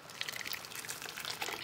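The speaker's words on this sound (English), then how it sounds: "Okay, we're gonna pour our salsa." Salsa poured into a pan of browning meat for carne con chile, a short wet splashing and sizzling spatter at moderate level.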